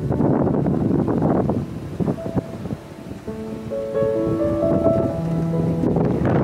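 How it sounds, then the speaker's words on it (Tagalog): Strong wind on a hilltop buffets the microphone in a steady roar, easing briefly midway while faint tonal hums rise, then gusting hard again. "Grabe oh, lakas ng hangin."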